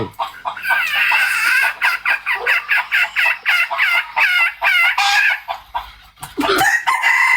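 Chickens clucking loudly in a rapid series of sharp calls, ending with a crowing burst, close by.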